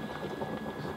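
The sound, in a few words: boiling water for brewing beer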